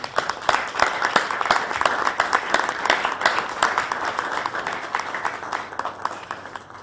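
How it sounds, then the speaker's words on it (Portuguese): A seated audience at a Spanish-Portuguese debate event claps steadily for several seconds, a dense, even round of applause filling the room without speech on top. "pediros un aplauso para Luis que también..."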